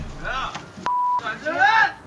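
A phone call being dialed from a convenience store gives one steady electronic beep of about a third of a second, with people talking just before and after it.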